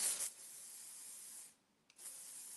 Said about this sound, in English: Spray this at the very ends of the hair.